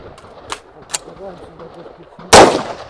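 Rifle shots from a Faxon carbine during a fast shooting drill, with a few faint pops and then one loud sharp report near the end, all under quiet talk.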